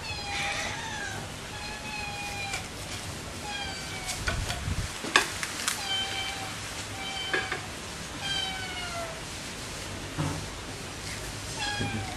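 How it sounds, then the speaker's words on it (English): Several cats meowing around a barbecue where fish is grilling, repeated rising and falling cries from more than one animal at moderate distance over a steady background hiss and a few clattering knocks. "Now you can probably hear the cats because there's a lovely smell wafting off this."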